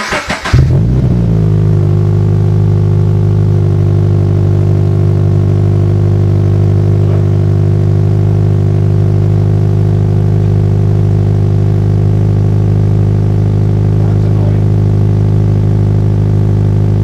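A Subaru BRZ fitted with an Invidia N1 titanium-tip exhaust cranks and fires, then settles into a loud, steady, deep idle that holds unbroken throughout, with no voices.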